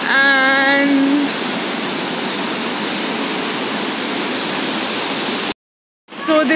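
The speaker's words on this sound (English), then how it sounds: "That's like the waterfall" A waterfall beside the Dubai water canal gives a steady broadband rush of falling water, continuous and fairly loud for most of the span, with a brief voice-like tone at the start and a short dropout near the end.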